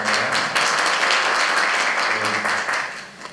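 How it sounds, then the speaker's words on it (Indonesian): Audience applause at a cultural expression workshop, a steady wash of many hands clapping close and loud for about three seconds, tapering slightly at the end. "Tepuk tangan untuk penjelasannya."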